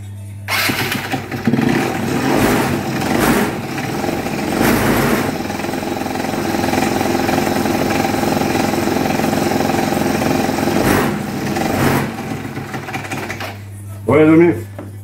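A small moped or scooter engine, freshly fitted with a cleaned carburettor and a new spark plug, runs close by with a steady buzzing idle and a few blips of throttle. A voice speaks briefly at the end.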